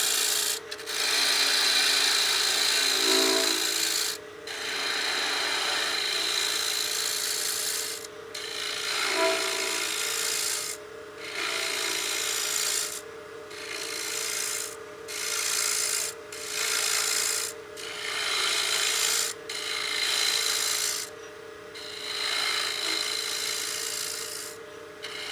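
Bowl gouge cutting away bulk wood on a lathe while turning a utility box, a steady rasping scrape in repeated passes with brief pauses between cuts, close and fairly loud, no talking.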